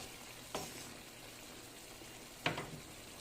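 Sausage drops into a hot pan for a creamy chicken pastel, giving a faint steady sizzle with two brief louder sputters, one near the start and a sharper one later, no talking.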